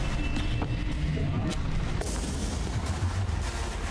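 A sudden explosion bursts in Cyberpunk 2077, a pair of sharp booms close together amid low rumbling game noise, with no speech over it.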